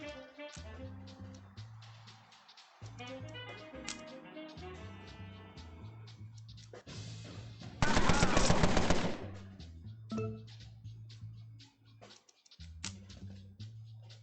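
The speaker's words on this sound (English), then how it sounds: "we might just get some fire off with Cyril." Gunfire in the video game Empire of Sin, a loud dense burst of automatic shots lasting about a second midway, set against game music and ambience.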